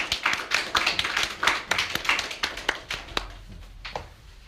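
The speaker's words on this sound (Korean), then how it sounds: "박수 한번 칠까요?" Applause from a church congregation after a priest's prayer: a room full of hands clapping in dense, fairly loud bursts that gradually thin out and fade toward the end.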